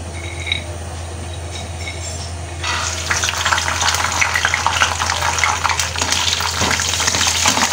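Peanuts fry in hot oil in a pan. After a quiet stretch, a dense, steady crackling and sizzling sets in, close and moderately loud, with no voices over it.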